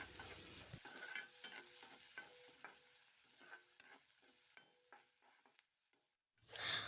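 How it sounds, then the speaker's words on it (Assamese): Onions frying in a pan with a soft sizzle, stirred in a rhythmic series of spatula scrapes and taps, close and fairly quiet, ending in a short rustle. "কালাৰ চেঞ্জ হোৱালৈকে ভাজি ল'ম।"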